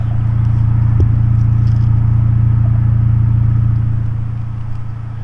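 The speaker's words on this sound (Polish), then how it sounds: "jak na sam końcowy tłumik to bardzo fajnie. Naprawdę bardzo Przyjemnie. podkreśla właśnie ten basowy dźwięk." Exhaust of an Opel Vectra Irmscher 1.8 16v Z18XE with only a rear muffler, giving a steady, loud, bassy engine rumble near the car. The deep drone holds evenly, with a brief knock about one second in, and eases slightly toward the end.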